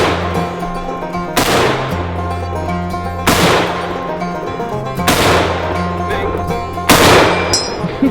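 Gunshots ring off a steel target at a shooting range: four loud, sharp cracks spaced roughly two seconds apart, each followed by a lingering metallic ping, over steady background noise.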